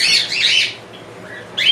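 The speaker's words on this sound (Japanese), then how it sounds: "文鳥もびっくりしてます。" A startled Java sparrow lets out loud, harsh squawks nearby, a sharp burst of calls, a brief quieter gap, then another abrupt squawk.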